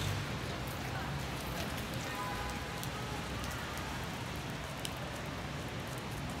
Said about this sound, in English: Yeah, it was pouring rain.